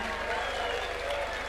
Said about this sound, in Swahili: na sisi, tuwapigie makofi.